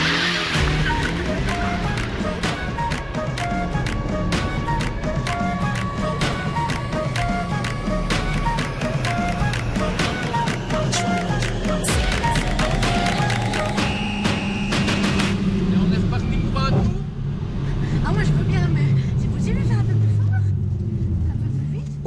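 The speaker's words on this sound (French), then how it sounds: "Les deux amis s'engouffrent dans une Mégane de 275 chevaux." A 275-horsepower Renault Mégane being driven hard on a race track, engine note rising and falling through gear changes with tire noise and whooshing cabin sounds, loud and close, with occasional talk inside the car.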